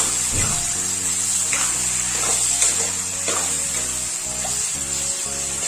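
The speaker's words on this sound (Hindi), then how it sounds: "और इसको हम थोड़ी देर के लिए अच्छे से फ्राई कर लेते हैं।" Jackfruit with turmeric frying in a pan gives off a continuous hissing sizzle, close and steady, with soft stirring scrapes and a faint low hum underneath.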